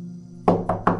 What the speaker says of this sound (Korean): 창문을 두드리는 소리가 들립니다